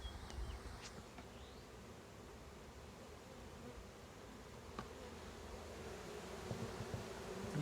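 Honey bees from a package being installed into a new hive with fresh frames: a low, continuous buzzing swarm with occasional individual bees droning close by, fairly quiet outdoors.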